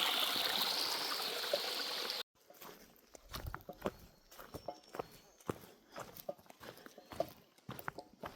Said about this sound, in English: The clanking sound is my cook pot attached to the outside of my pack